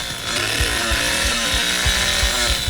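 A chainsaw revving in The Texas Chain Saw Massacre video game, played as Leatherface, a loud continuous buzzing roar with pulsing throttle surges and no talk over it.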